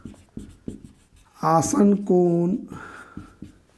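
Chalk or marker tapping and scratching on a board during a math lesson on quadrilaterals, a series of short, close, rhythmic strokes that stop while someone speaks in the middle, then resume afterward.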